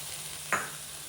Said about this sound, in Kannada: ಸೊ 1 ನಿಂಬೆಹಣ್ಣಿನ ರಸವನ್ನು ಇದಕ್ಕೆ ಆ್ಯಡ್ ಮಾಡ್ತಾ ಇದ್ದೀನಿ